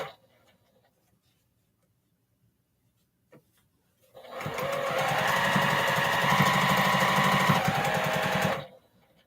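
A sewing machine stitches fabric strip sets for a quilt top of 1.5-inch postage-stamp squares. A small click breaks the quiet, then a steady close whirring hum runs for about four seconds before stopping abruptly.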